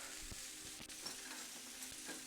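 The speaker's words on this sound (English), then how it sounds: "I'm gonna go ahead and add my leeks and a pinch of kosher salt." Leeks fry in hot olive oil with a pinch of kosher salt, giving a steady, close sizzle with faint stirring scrapes over it.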